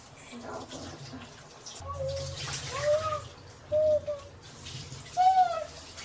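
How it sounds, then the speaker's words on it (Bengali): Fish is rinsed under splashing water in intermittent bursts, with pigeons cooing nearby and voices talking in the background. "চলো এবার এটাকে জল দিয়ে ভালো করে ধুয়ে নিই"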